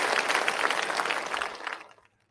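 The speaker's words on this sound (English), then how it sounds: "let's get a round of applause for Ben Hammond, everyone" Applause for Ben Hammond, a steady wash of clapping that carries for about two seconds and then fades out quickly into silence.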